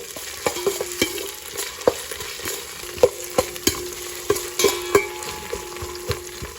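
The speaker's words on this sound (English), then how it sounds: "ginger garlic paste and saute it till the raw ginger garlic smell goes away" Ginger garlic paste sautés in hot oil for bhagara rice, a steady close sizzle with a string of sharp spoon clicks and scrapes against the pan, no voices over it.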